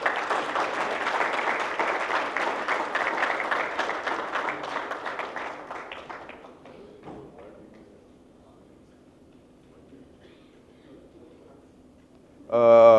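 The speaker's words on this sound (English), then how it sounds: "A big hand of applause, please." Audience applause welcoming the chief guest, the Union Minister for Social Justice from India, at a sustainability forum; dense clapping fills the first six seconds, then fades to a quiet room before a sudden loud burst at the end.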